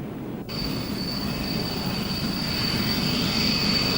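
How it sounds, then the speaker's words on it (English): F-16 Fighting Falcon jets of the 388th Tactical Fighter Wing taking off, a sudden loud onset of roaring jet noise with a sustained high whine that builds steadily, heard alone. "388th Tactical Fighter Wing take off for more tough training missions"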